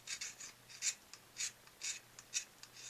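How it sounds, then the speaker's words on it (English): The side of a hobby knife blade rasps back and forth over a scratch-built 1/72 Jagdpanther model, roughly six short, quiet scraping strokes in a steady rhythm, close up. "use the blade as sandpaper by just sitting it on its side and rubbing it back and forth like this"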